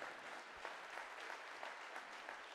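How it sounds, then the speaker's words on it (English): A church congregation at an Easter service claps faintly and steadily, a soft, distant patter of hands running without a break for a couple of seconds. "Yeah, you can clap."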